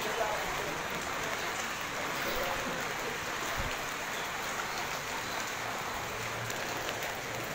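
Heavy rain falls steadily during flooding in Las Piñas, a dense, unbroken hiss of drops on surfaces and water, close and even throughout with no clear voices.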